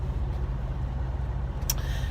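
Steady low engine rumble of idling vehicles at a truck stop, with a brief sharp hiss like an air brake near the end, no voices.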